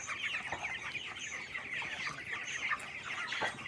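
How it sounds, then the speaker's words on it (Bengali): Broiler chickens about 24 days old clucking together on a poultry farm, a steady busy chorus of overlapping calls with no talking. "এ আমার ব্রয়লার মুরগির বাচ্চা"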